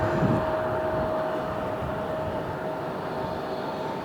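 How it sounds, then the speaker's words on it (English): Air turbine starter spinning up an Airbus A320neo jet engine at an airport, a loud steady whine with a sustained tone over broadband roar, heard from a distance. "the loud sound of the Neo starting up. That is the air turbine starter putting air into that engine."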